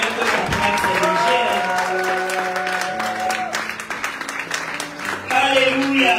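A church congregation applauding: steady clapping throughout, mixed with sustained tones of music or voices, while a preacher speaks over it.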